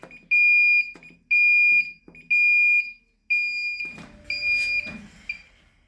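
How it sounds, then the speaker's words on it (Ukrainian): A plywood laser cutting machine's controller beeps in four long, even electronic tones at steady intervals while homing, then falls silent as a few clicks and clunks follow. "Так, контролер перестав пищати."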